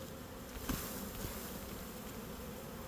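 A soft, steady buzz of honey bees at a hive entrance fills the background. One insect briefly passes close by, and no one speaks.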